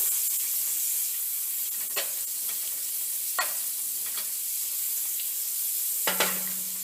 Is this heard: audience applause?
no